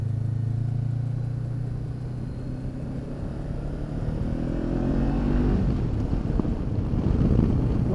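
Wind buffets the helmet and screen of a Honda CB500X adventure motorcycle at riding speed, a steady loud roar with engine drone beneath that swells toward the end.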